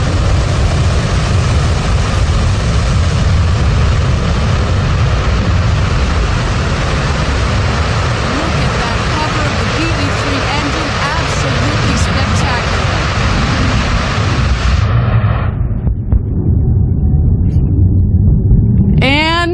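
A New Shepard reusable rocket booster descends to land, its engine a loud, continuous broadband roar that holds steady for about fifteen seconds before cutting off abruptly, leaving quieter outdoor noise.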